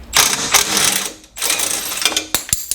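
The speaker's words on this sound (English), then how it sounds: "You have to take off this 13mm bolt that's hold on to the crash bar. So just go ahead and remove that." A ratchet turns out a 13mm bolt holding the crash bar on a BMW G30, close rapid clicking in two longer runs followed by a few sharp metallic knocks, with no talk.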